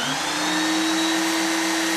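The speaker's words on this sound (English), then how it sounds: "I'm going to grind the edge until it's a knife point so that it fits right into the threads in this threaded rod" A grinder wears down the edge of a metal washer to a knife point, giving a steady, loud whine with a constant pitch that holds for the full two seconds and carries no speech.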